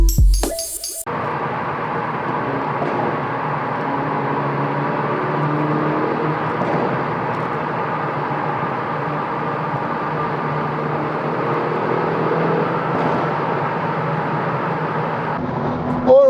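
A Hyundai Veloster N accelerates on a Korean highway, heard as a steady, loud engine and road drone inside the car that holds evenly throughout.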